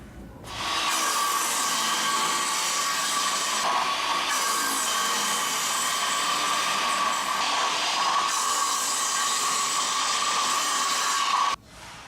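A power saw rips through an 8-foot 1x12 whitewood board outdoors, a continuous loud whining cut of about ten seconds with slight shifts in pitch, starting and stopping abruptly.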